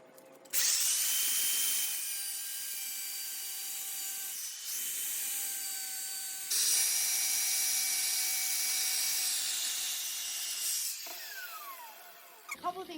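Wet diamond cutting pad slicing through tile for a mitre edge, a steady high grinding whine that holds for long stretches with brief breaks between passes, close and loud with no talk.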